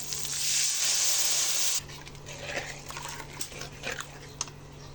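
A loud, steady hissing rush for about two seconds as water is poured into a hot pan of turmeric-seasoned rohu fish curry, cutting off abruptly, followed by softer irregular bubbling and crackling from the pan.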